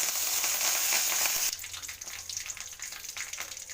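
Mustard seeds splutter and crackle in hot oil over a wood-fired stove while tempering for sambar. A dense, loud sizzle at the start drops after a moment to quieter, irregular pops and crackles that continue alone.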